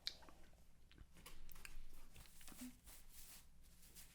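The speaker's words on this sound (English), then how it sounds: "When I'm done chewing my cookie." Someone chews a cookie close to the mic, with soft, irregular crunching and squishy bites spread over a few seconds in a quiet room.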